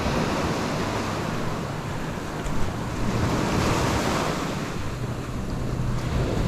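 Ocean surf rolls steadily onto a sandy beach where fish are being caught, a continuous broad wash of breaking waves mixed with wind buffeting the microphone, loud and unbroken.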